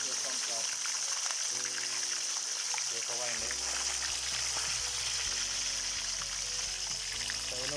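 Hot oil sizzling steadily as fish fries for a Thai chili-sauce tilapia dish, a continuous close crackle and hiss with low hum underneath, voices faintly present in the background.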